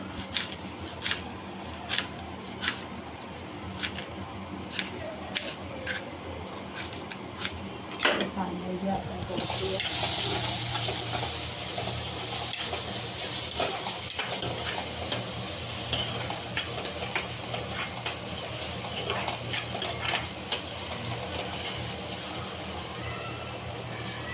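Onions fry in a pan for pav bhaji. A spoon taps and stirs at first, then a loud sizzle rises midway and continues under repeated clinks of the utensil.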